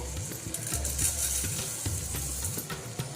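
Toor dal goes into hot oil with softened tomatoes in a pan and is stirred lightly, giving a steady close sizzle with soft scraping of the spoon. Nobody speaks.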